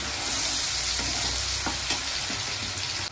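Green paste is stirred into hot oil with curry leaves and cumin in a pan for prawn curry, a dense close sizzle with a few soft spatula scrapes, no speech.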